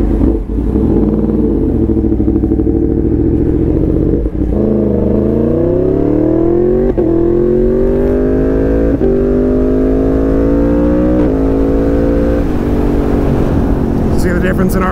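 A Yamaha MT-10 motorcycle accelerates hard on a highway using a quick shifter, its engine note climbing steadily through several seamless upshifts, loud and close against wind noise, with a voice talking over it.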